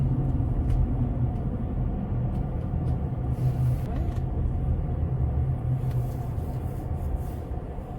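A car drives along a road, heard from inside as a steady low rumble and engine drone with tyre noise, continuous throughout and fading slightly at the end.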